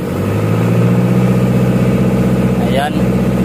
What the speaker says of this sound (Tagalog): yung tunog ng engine ay wala, napaka low power siya.